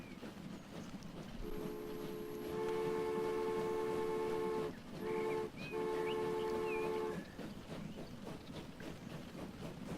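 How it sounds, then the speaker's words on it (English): Passenger train in the Transport Fever game pulling out of a depot, with a loud sustained horn chord over steady rolling rail rumble, briefly interrupted, then fading into continued track noise. "I never tire of seeing our trains roll out of depots"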